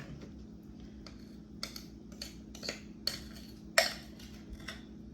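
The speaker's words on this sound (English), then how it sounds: "Now we're gonna go ahead and put this into our pre-buttered pan." Brownie batter being scraped from a bowl into a pre-buttered pan, heard as a string of light clinks and scrapes from a utensil against the cookware, close and fairly quiet, with the loudest knock near the end.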